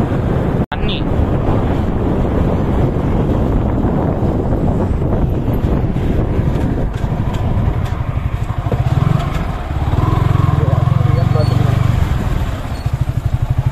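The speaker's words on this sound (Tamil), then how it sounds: "கேட்டிங்களா, எவ்வளோ தண்ணி போகுது திருப்பூரில் நொய்யல் ஆற்றுல" Water rushes along the Noyyal river near the Orathupalayam dam in Tiruppur as a continuous broadband roar. Heavy wind buffets the microphone throughout, and a lower rumbling swell comes in near the end.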